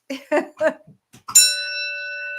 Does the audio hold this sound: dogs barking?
no